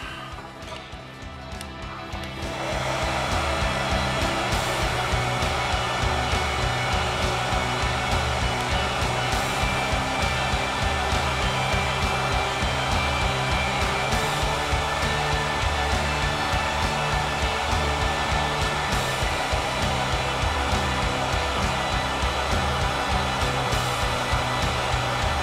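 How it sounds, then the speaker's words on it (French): A hair dryer runs in a workshop while wheel rim stripes are applied to a Tamiya 1199 Panigale model, starting softly and then blowing loudly and steadily at close range for the rest of the time. "mettre un petit coup de sèche-cheveux"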